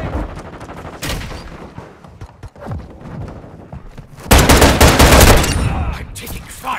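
Gunfire in a video game battle: scattered shots and clatter early on, then a loud burst of rapid fire in the latter half that dominates briefly before easing off.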